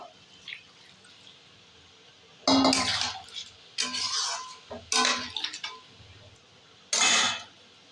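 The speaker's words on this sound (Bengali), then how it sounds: "এর মধ্যে উষ্ণ গরম জল দিয়ে দেবো।" Warm water splashed into a pan of fried mutton in four separate pours, each setting off a loud, close hiss and sizzle that dies back to quiet between pours.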